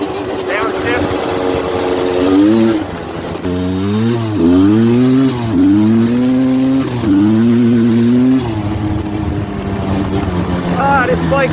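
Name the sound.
Suzuki LT250R ATV engine revving, downshifting while riding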